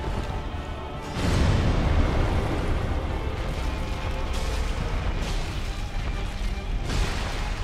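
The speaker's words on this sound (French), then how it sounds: "encore explosion" Heavy, rumbling explosions roll on almost continuously, a dense roar of booms with a brief quieter stretch at the start.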